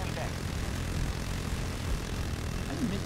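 A steady droning rotor and engine roar of an attack helicopter hangs overhead in a Battlefield 2042 battle, continuous and fairly loud.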